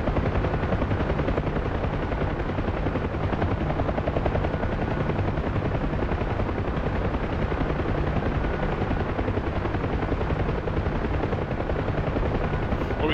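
Machine gun fire from a helicopter in the video game Helo Ops: Assault on Dubai, a dense continuous rattle layered over steady rotor roar, loud and unbroken throughout.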